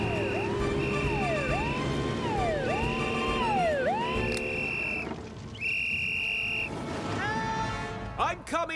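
Shrill cartoon whistle blasts in Fireman Sam: a few long steady toots mixed with swooping, sliding whistle tones, loud over busy background music.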